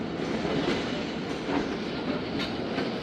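The Khyber Mail passenger train at Lahore station gives a steady, broad rumble of rolling wagons with faint rhythmic clatter, heard from on board and without talk.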